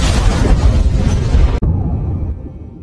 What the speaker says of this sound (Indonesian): tiba-tiba terjadi sebuah ledakan dahsyat yang seketika menewaskan keduanya